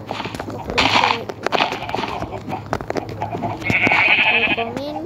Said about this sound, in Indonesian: Ini ladang kambing Ziyad.